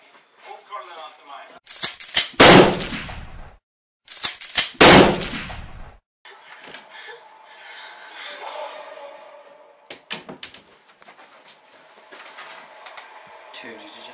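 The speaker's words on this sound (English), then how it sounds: "Was that a gunshot that I heard?" Two loud, sharp gunshot-like bangs ring out close by in quick succession, each with a lingering echo, during a zombie-outbreak comedy skit. They are followed by quieter clattering and faint background voices.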